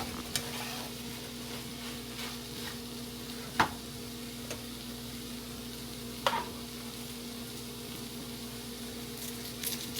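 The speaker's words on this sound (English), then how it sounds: "Back to stirring." Eggs stirred in a frying pan with a low, steady sizzle, a utensil scraping and tapping the pan a few times, with cheese on hand for the dish.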